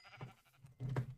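A sheep in the video game Patchcraft gives two short, close bleats, the second louder and more nasal, with quiet gaps around them.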